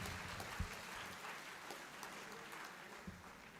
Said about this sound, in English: Everyone, a big round of applause to sir.